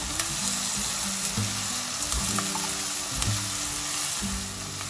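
Makhana (fox nuts) fry with spices in a pan, giving a steady, loud sizzle that runs the whole time, with a few stirring scrapes and low background hum underneath.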